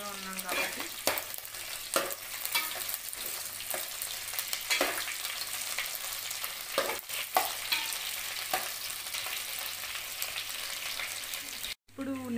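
Nethallu, small dried fish, frying in sesame oil in a pan over raised flame: a steady moderate sizzle with intermittent stirring scrapes and clinks, heard close, with a brief gap near the end.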